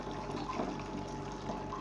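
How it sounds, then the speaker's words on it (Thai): Hot fish-boiling water being poured over meat, a soft continuous splashing and trickling stream, faint and steady throughout. "หลังจากนั้นเราก็เอาน้ำห้อนนี่ลวกลงเลยเนาะน้ำต้มปลานิ่นเขานะน้ำต้มปลาเขา"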